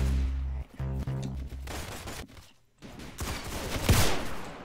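Rapid bursts of gunfire in the Roblox game Arsenal, a quick rattling volley at the start followed by scattered shots and a sharp blast, fairly quiet overall.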